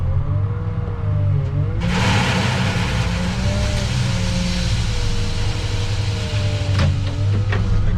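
A front end loader's diesel engine revs hard while it loads buckets into a truck, a loud, steady mechanical roar that surges sharply after a quieter idle and holds for several seconds.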